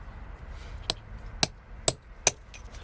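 A small chisel is tapped against a drive shaft on a BMW to break its seal: four sharp metallic clinks at an even pace, close and clear over faint background noise.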